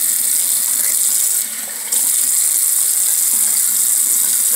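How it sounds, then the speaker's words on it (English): Bathroom tap running steadily into cupped palms at a sink while brushing teeth, a loud, close, continuous rush of water that briefly softens and thins before returning full, with no talk. "get some water in your palms, like this"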